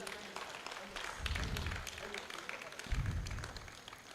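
Audience at a university inaugural lecture clapping in a thin, scattered way, a few hands patting unevenly through the room at moderate volume, with low murmuring underneath.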